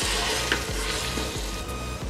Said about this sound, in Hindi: और साथ ही साथ हमारे आलू भी। अच्छे से मिक्स करेंगे।